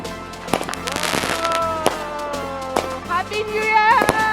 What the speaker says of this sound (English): Made some fireworks and watched some fireworks.